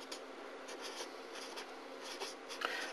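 A pen or pencil scratches across paper as a calculator answer is written down, making soft, quick strokes in an irregular rhythm, close and quiet.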